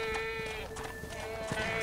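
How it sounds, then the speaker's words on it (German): Goats or sheep bleating in the video game Red Dead Redemption: Undead Nightmare, a few faint, short bleats over a sustained tonal hum and quiet background ambience. "Hier haben wir Ziegen oder Schafe."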